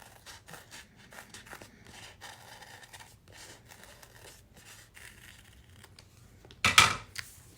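Paper scissors trimming around a cut circle on a handmade birthday card give one short, crisp snipping burst near the end, close and fairly loud after quiet rustling.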